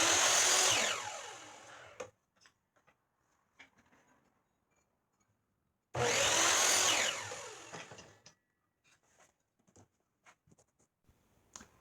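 A power saw cuts sanded wooden toaster tongs into 3.5 inch pieces in two loud, close bursts of about two seconds each, separated by quiet stretches with light knocks and handling sounds.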